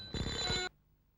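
A telephone rings loudly in one close, sustained burst of an electronic warbling ring, then cuts off into near silence.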